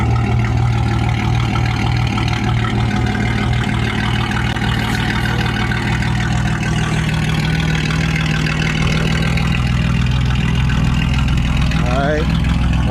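Fourth-generation V6 Camaro idles just after a new exhaust install, a steady deep rumbling drone close by, holding even and loud throughout.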